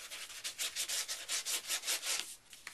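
A paper hinge inside a handmade mini album is rubbed down firmly, giving about a dozen quick, close, rhythmic scratchy strokes with no talking.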